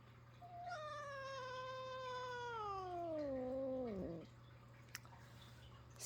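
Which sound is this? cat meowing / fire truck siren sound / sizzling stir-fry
cat meowing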